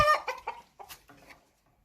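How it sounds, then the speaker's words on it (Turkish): Near a backyard coop, a hen lets out a loud opening squawk followed by a few softer, spaced clucks that fade into quiet. "Diğer tavuğumuz."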